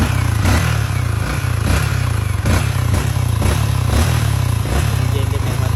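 A 2024 Yamaha Y16ZR ABS motorcycle with a stock engine runs steadily nearby, a low throbbing idle with rhythmic mechanical clatter pulsing about twice a second throughout.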